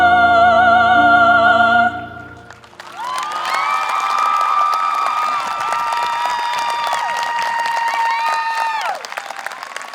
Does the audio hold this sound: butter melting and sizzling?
no